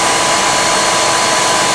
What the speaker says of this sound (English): Put it all in there and blend.